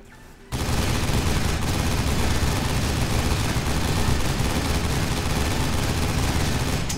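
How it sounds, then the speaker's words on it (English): Gatling gun in the video game Loadout firing nonstop: a dense, loud, unbroken roar of rapid shots that starts abruptly after a brief quiet moment and holds steady to the end. "what we pretty much made there was a Gatling gun that excels at firing while moving"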